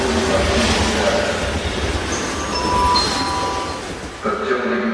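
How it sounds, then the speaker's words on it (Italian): A train passes through Guidonia station in Italy with a sustained rumbling roar and faint metallic clinks and squeals, fading slightly near the end before a new swell. A muffled voice is heard faintly beneath it. "Stazione di Guidonia, attenzione al terzo binario, treno in transito."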